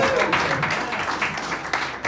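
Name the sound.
audience applause for a stand-up comedian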